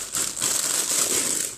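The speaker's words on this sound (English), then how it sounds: "So I'm going to start peeling off my potato." Potatoes being peeled in a home kitchen while preparing fish pie, a close, steady scraping and crinkling with no speech.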